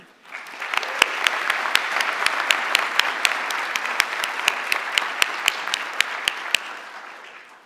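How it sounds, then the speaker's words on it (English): A round of applause from the audience at a fall university convocation in Waterloo, dense sustained clapping from many hands filling the hall, with a few sharper individual claps standing out near the microphone, fading at the end. "Please join me in a round of applause to recognize everybody here today."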